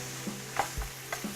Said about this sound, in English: Raise the fire back to medium and continue to cook. Now mix your rice thoroughly inside.